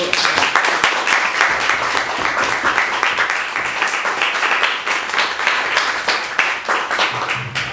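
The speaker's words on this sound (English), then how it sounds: "Can we have a round of applause for..." Audience at a speaker event giving a round of applause, sustained dense clapping from a room full of people, close and fairly loud throughout.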